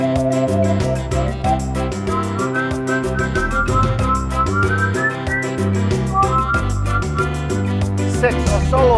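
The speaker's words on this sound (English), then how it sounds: "5, bells or whistles." A Lowrey SU series organ plays a whistle voice, a melodic whistling line over sustained chords and accompaniment, loud and continuous.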